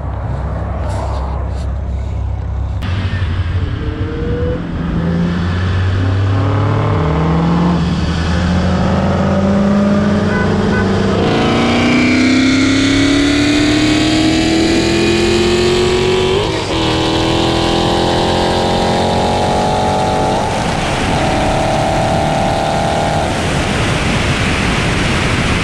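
A manual Dodge Challenger Hellcat and a bolt-on BMW 335i with the N54 engine race side by side, their engines revving loud and close with rising gear pulls and shifts, ending in a steady roar.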